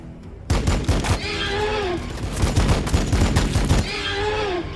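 Loud gunfire in the Warhammer 40k Battlesector game: rapid bursts of close shots after a quiet start, mixed with shrill, sweeping creature screeches.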